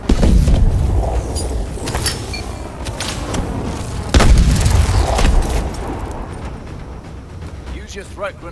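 Booming grenade blasts in the futuristic shooter Call of Duty: Advanced Warfare, a heavy burst near the start and a second strong one around the middle, with rumbling game noise and occasional voice between them.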